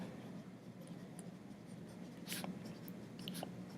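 Writing by hand in a notebook while working a classify-triangles assignment, a steady soft scratching of pen or pencil on paper with a few brief sharper taps, close and quiet, with no talking.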